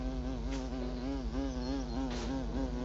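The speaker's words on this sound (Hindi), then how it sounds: "भाई, मक्खी उड़ रही है।" A fly buzzes in the walking game Walk Master with a continuous, wavering drone that rises and falls in pitch as it circles, close and fairly quiet, with no talking.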